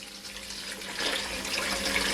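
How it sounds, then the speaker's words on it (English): Water from a kettle pours into a seasoning bowl, a steady close splashing stream that swells after the first second and runs on without pause. "I add water from my kettle"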